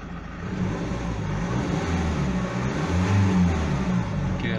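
A 2007 Ford Mondeo 2.0 TDCi diesel with excessive smoke is blipped on the throttle, its engine rising in a close, steady rumble and peaking briefly before easing back.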